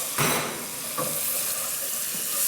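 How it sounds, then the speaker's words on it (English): Water splashes into a hot pan holding a red masoor dal base in a restaurant kitchen, a hissing, sizzling wash with a couple of sharper bursts, fairly close and with no talk. "A little bit more water."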